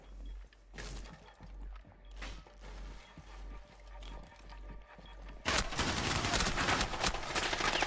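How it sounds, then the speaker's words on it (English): Gunfire tears through a solid wall in Rainbow Six Siege: scattered sharp shots and mechanical clatter over a steady low hum, then a sustained, louder burst of rapid fire and debris noise at the end. "Wall banging me through a solid wall"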